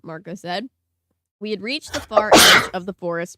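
A single loud, close sneeze bursts out in the middle of a man reading aloud, with his steady speech both before and after it.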